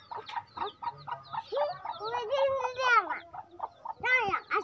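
A chicken clucks and squawks in a run of short, rising and falling calls close by outdoors, with a few voices faintly mixed in.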